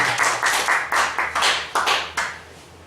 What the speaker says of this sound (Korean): 하나님 앞에 감사의 박수를 드리겠습니다